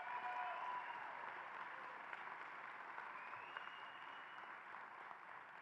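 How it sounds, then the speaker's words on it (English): Steady applause from the audience at a university College of Pharmacy spring commencement, a dense, fairly quiet wash of clapping that holds evenly and fades slightly, with no voices over it. "How about a round of applause for all of them?"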